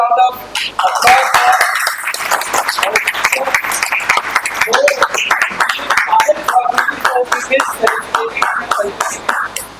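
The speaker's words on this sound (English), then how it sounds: "huge round of applause" Audience applause at a tax seminar, a dense, steady spread of many hands clapping close by that carries through the whole stretch without pause.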